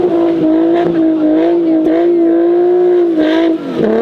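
A car's engine revs hard and steadily as it fails to climb a snowy hill, a loud sustained drone with brief dips, while people talk nearby.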